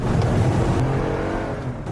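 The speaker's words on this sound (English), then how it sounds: "they make an editing error that makes it look like the car's engine is revving dramatically." A car engine revs loudly and steadily with the car in park, its broad roar filling the whole short stretch up close with no talk over it.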